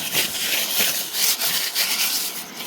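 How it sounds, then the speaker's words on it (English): A cloth rubbing olive oil onto rusty metal canning rings: steady, close scrubbing and rasping with rhythmic rubbing strokes, fairly loud, with no talking. "Then we'll take our rings and then rub this around the ring."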